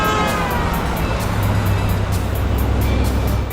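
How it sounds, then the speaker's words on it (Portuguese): Oldsmobile Delta 88 car in a Spider-Man film scene, its engine giving a steady low drone with faint rhythmic ticking over constant road noise, no talk. "Um Oldsmobile Delta 88 também faz parte da saga de terror e aparece como o carro do Tio Ben no filme."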